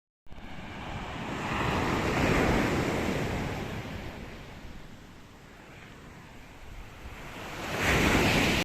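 Waves break on the beach at Golden Sands, Bulgaria, a broad rushing wash of surf that swells, fades and surges again near the end, mixed with gusty wind buffeting the microphone and no voices.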